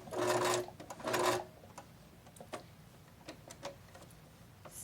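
A sewing machine gives two short bursts of stitching as it goes back over earlier stitches, followed by quiet ticks and clicks from handling the fabric.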